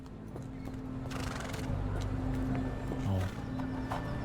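A horse whinnies and snorts in a video game over steady hoofbeats and a low droning background, with a brief exclaimed word from a voice.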